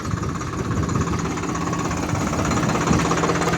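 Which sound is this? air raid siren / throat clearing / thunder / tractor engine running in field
tractor engine running in field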